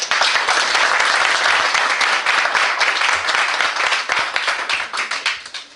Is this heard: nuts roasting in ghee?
no